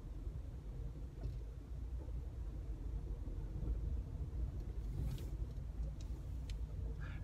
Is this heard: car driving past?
yes